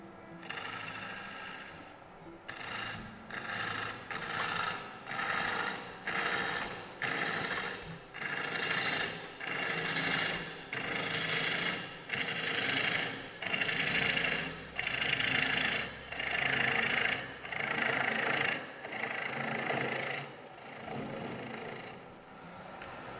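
A wood lathe hollows out a salad bowl, with the gouge rasping through the wood in repeated rhythmic cuts about a second apart over a steady motor hum.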